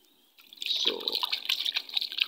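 Rocks are washed in a river, and water splashes and trickles nearby. A soft start gives way to a steady, bubbling wash of liquid.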